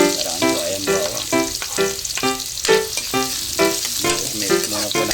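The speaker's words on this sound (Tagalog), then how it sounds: "pinainitan na natin ang mantika at tayo po ay magsisimula ng maggisa" Onion and garlic sauté in hot oil for a pinoy dish, a steady loud sizzle with rhythmic spatula strokes scraping the pan throughout.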